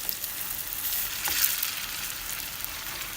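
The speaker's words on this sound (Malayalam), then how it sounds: "ഈ എണ്ണ ചൂടാകുമ്പോൾ നമുക്ക് ചിക്കൻ ഇട്ട് പൊരിച്ചെടുക്കാം." Pieces of chicken fry in hot oil in a pan for chilly chicken, giving a steady, close sizzle with one brief louder crackle and no talk.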